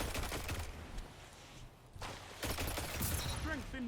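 Auto rifle firing in a video game, dense rapid bursts of shots over a busy mix of game effects, with a voice speaking faintly over it.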